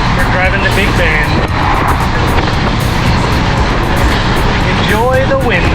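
Loud, continuous wind roar fills the inside of a bus driving toward Big Bend with its Safari windows open, along with a rumbling engine and road noise.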